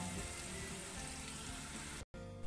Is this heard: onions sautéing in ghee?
yes